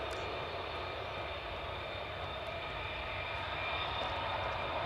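A multi-role fighter jet at RAF Lakenheath gives off a steady, even roar at a distance, holding constant throughout with no talking over it.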